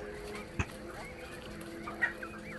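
A male quail on a Kerala quail farm gives short calls, two distinct bursts standing out over a low background with faint voices.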